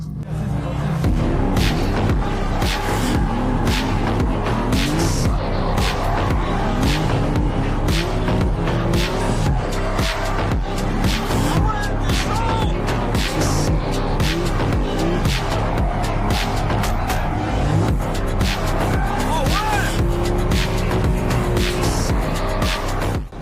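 An automatic Audi RS3 drifts on dry asphalt, its engine roaring loudly and without a break while the tires squeal and skid throughout, close and dominant.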